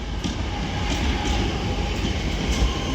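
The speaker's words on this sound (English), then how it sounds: "Also now arriving in over here is going to be a Northern 323, 323 227 at the front." A Northern Class 323 electric train, unit 323 227, pulls into Manchester Oxford Road station, a steady loud rumble of wheels on rail with faint rhythmic clicks.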